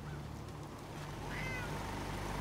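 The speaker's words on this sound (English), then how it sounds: "Oh, there's the cat." A cat meows in the video game Fallout 4, a brief faint mew over a steady low hum of game ambience.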